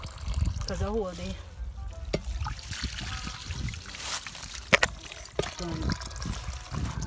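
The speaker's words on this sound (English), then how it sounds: "How heavy the water is coming. My hands need to wash now." Water runs steadily from a tap for hand washing at an outdoor cooking area on a farm in Jamaica, a trickling, splashing flow with someone talking over it.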